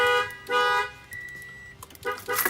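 An Avital 3305 car alarm going off after a door is opened, loud electronic siren tones pulsing in bursts with short gaps, alternating pitch patterns, close and unaccompanied by speech.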